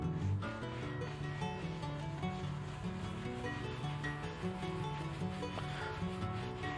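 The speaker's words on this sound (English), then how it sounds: "we're going to come back with our polish brush and we're just going to buff everything out" Steady brisk rubbing of a polish brush buffing Red Wing Heritage leather boots, continuous close-up bristle scrubbing at an even level throughout, with a faint tonal hum underneath.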